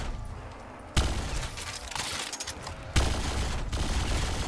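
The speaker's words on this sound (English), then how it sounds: "this gun I can't keep because it's burning through ammo ridiculously fast" Rapid automatic gunfire in Call of Duty Black Ops, two loud bursts of fast repeating shots, each several seconds long, with a brief quieter gap between them.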